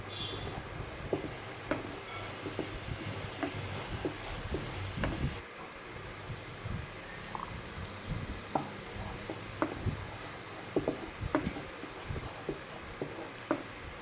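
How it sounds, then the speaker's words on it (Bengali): Chili powder masala sautéed in oil with a little water for a hilsa fish curry, a continuous soft sizzle punctuated by sharp spoon scrapes and taps against the pan. "এবার ভালো করে কষিয়ে নেব মশলাটা"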